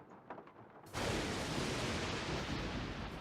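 Thunder in a video game: a sudden loud crack that swells into a dense, sustained roaring rumble, filling the space after a few faint ticks.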